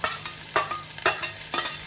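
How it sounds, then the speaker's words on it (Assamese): Shredded cabbage for poha is stir-fried in a pan: a continuous sizzle, broken by about four scraping stirs that come at regular intervals, with no talking. "এতিয়া মই বন্ধাকবি এড কৰিম প্ৰথমতে।"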